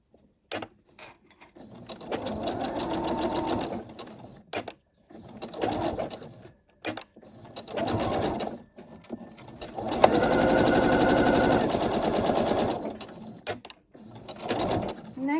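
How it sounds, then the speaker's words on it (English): Sewing machine chain stitching tabs for a drawstring backpack, running in several close bursts of rapid whirring with short pauses between, the longest run near the end. "I am actually going to chain stitch them like so"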